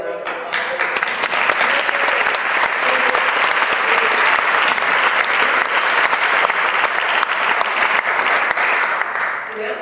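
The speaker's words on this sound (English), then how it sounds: "let's please to give them a round of applause" Sustained audience applause at a university Martin Luther King Jr. commemoration, a loud, dense clapping from a large crowd that continues evenly for about ten seconds.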